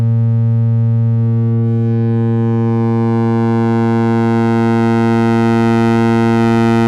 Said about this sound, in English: as we go clockwise to the right, you'll hear more harmonics being introduced.